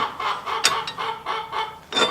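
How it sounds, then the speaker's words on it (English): Chickens cluck repeatedly in a garage or yard during a Honda Civic front wheel bearing job, a steady run of close, moderately loud clucks with a sharper squawk near the end. "Chicken! Quiet."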